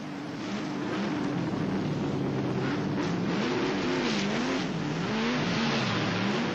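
A racing car engine drones loudly and steadily at the 1981 Bathurst race, its pitch wavering up and down as it pulls away.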